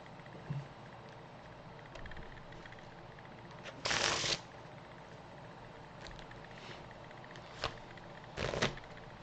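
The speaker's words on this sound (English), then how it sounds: "So we're just going to go ahead and shuffle up again." A deck of cards is shuffled in a Magic: The Gathering match, with several short riffling bursts spaced apart, fairly quiet and close, and no talking.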